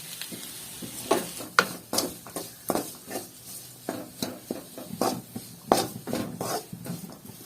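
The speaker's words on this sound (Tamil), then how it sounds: "இதுக்கு மட்டும் நீங்கள் உப்பு சேர்த்து லைட்டாக வதக்கி விட்டுக்கோங்க" Potato masala stuffing for aloo paratha sautéed with salt in a pan on a home stove: soft sizzling under repeated scraping and stirring taps of a spatula, in an irregular rhythm.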